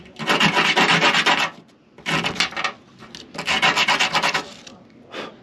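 Ordinary sandpaper scrubs rusty connections and nuts in three loud, close bursts of rapid back-and-forth rasping, then a short final scrape, with brief pauses between strokes and no voices.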